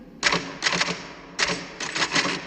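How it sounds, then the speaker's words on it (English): Keys clatter on a typewriter in quick, dense bursts: two clusters of rapid strokes, a pause, then two more clusters, heard close up with no voices. "Whenever I'm in here, you hear me typing."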